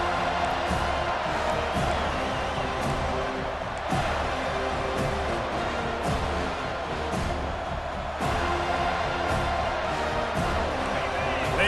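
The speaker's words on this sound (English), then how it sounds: "They challenge this crowd to bring the energy, and I'd say they're doing that." Crowd at a college football stadium, TCU visiting FSU, cheering and roaring in a dense, constant wash of distant noise, with a commentator's voice running over it.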